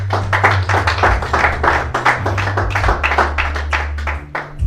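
A congregation at a church teaching service claps steadily in rhythm to acclaim Jesus Christ, many hands together in a loud, even beat that runs the whole length with little pause.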